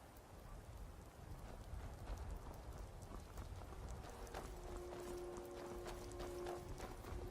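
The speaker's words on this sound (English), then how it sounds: "The rain makes me want to get naked and dance in circles around the trees." Steady rain falls in the video game Skyrim, a soft continuous hiss with rumbling low patter and scattered drip-like taps, faint and even throughout, with a brief sustained tone near the end.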